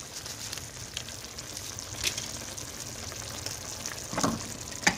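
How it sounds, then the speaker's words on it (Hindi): Cumin, dried coriander and karahi gosht masala fry in a karahi for beef keema, a steady soft sizzle running throughout with a few brief stirring scrapes, close and moderately quiet. "अच्छी तरह इसको भूनते हैं।"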